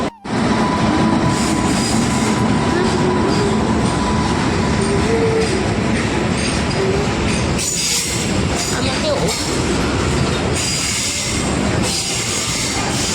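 A train pulls into a station with a loud, continuous rumble, rattling carriages and some wheel squeal. Brief voices occasionally sit beneath the roar.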